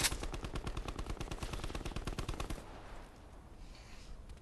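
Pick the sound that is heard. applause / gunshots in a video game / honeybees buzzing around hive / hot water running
gunshots in a video game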